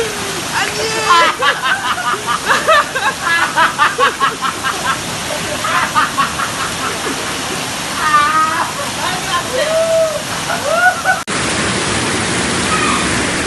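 Floodwater fills a city street in Makassar where residents swim and dive, making a loud, steady rush and slosh with splashing close by and voices over it.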